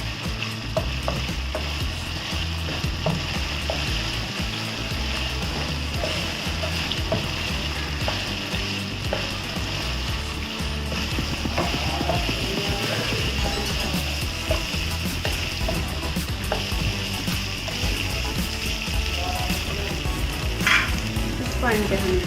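Beef for a spicy restaurant-style chili sizzles loudly in a pan once oil goes in, a dense, continuous crackling fry with occasional stirring scrapes, close and steady throughout with no speech.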